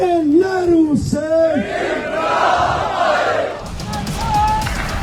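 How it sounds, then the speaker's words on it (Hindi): Protest crowd in Pakistan-occupied Kashmir chanting slogans: a loud rising and falling shout over the roar of many voices, then a dense crowd din with further cries, close and sustained. "नारे लगाती भीड़ आगे बढ़ती,"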